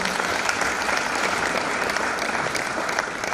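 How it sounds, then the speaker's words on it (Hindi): Steady applause from a group of wedding guests, a dense continuous patter of clapping with no voices standing out. "ताली बजाएंगे, ताली बजाएंगे।"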